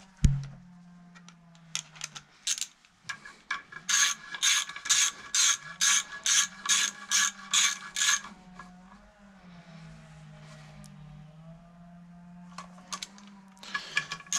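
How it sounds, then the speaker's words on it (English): A ratchet wrench clicks in rapid, evenly spaced bursts while tightening cylinder head bolts on a Citroen DS3 THP/N14 engine, the sharp ratcheting repeated in several runs with brief pauses and a low hum underneath. "But we are tightening them 90 degrees"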